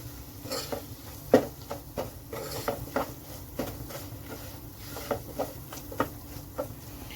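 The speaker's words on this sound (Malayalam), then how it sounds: "രസപ്പൊടിയാണ് ഒന്ന് ഇളക്കി കൊടുക്കാം" A spoon stirs rasam powder into amla rasam in a pot, giving a run of light scraping and clinking taps against the metal at an uneven rhythm, close and fairly quiet.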